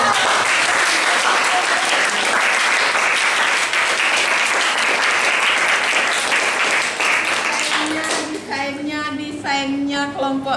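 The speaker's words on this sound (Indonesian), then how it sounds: "Beri tepuk tangan yang paling apa ya namanya ya" Classroom group applauding a student team after their presentation, with dense steady clapping that fills most of the stretch before giving way to a voice speaking near the end.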